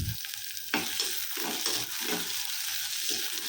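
Onions and garlic sauté in hot oil in a pan, a steady close sizzle broken by repeated scraping stirs of a spoon, with no voices.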